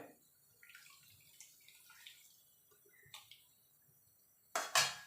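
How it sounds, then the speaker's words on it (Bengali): Hot water poured into a pot of curry with pea-lentil dumplings in a home kitchen: quiet light clinks at first, then a short, loud splashing pour near the end. "এখানে আমি গরম জল দিচ্ছি।"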